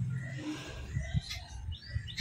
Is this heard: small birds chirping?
yes